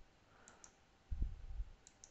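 A computer mouse clicks quietly a few times at a desk, with a soft low thump in the middle, in a near, otherwise quiet room.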